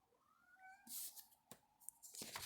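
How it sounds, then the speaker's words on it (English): A faint cat meow rises and falls once, followed by soft rustling and brief clattering noises nearby. "If you hear meowing, that's my cat."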